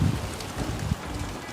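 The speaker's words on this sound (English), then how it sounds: "It is very windy here" Wind blowing outdoors beside a Broil King Regal 500 offset smoker, low rumbling gusts buffeting the microphone steadily for a moment.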